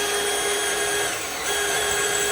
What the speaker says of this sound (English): So he's just drilling the holes.